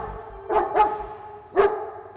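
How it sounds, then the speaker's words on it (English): Three sharp barks from a guard dog at close range: two quick ones in succession, then a third after a short pause, with no talking. "Why is your dog so aggressive?"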